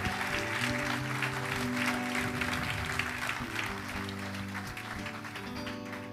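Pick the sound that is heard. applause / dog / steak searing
applause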